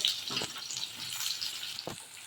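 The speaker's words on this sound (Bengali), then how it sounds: "এবার এর মধ্যে আমি কেটে রাখা করলাগুলো ভেজে নেব" Chopped bitter gourd frying in hot oil, a bright continuous sizzle with two short stirring scrapes, close and moderately loud, no voices.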